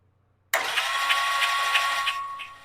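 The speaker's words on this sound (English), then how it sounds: "press that starter button and see if the motor turns over" A Triumph T140 motorcycle's electric starter cranks the engine with the spark plugs removed. It gives a sudden loud, steady whirring after a moment of silence, with a faint pulsing rhythm as the motor spins, then eases off.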